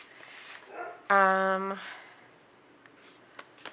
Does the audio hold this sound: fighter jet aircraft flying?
no